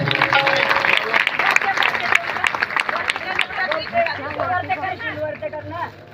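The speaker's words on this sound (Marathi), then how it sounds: "सर्वांनी या सुंदर पात्रांसाठी जोरात टाळ्या वाजवायचे." An audience claps loudly at a devotional Narmada Purana katha gathering in Hanuman Nagar, Bhusawal. Dense applause fills the first couple of seconds, then thins into scattered claps mixed with crowd voices and talk.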